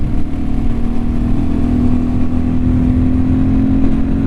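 Fantic Caballero 500 Rally single-cylinder motorcycle engine under moderate throttle while riding, a loud, steady thrumming drone with a sustained low hum and wind rush, heard close and uninterrupted.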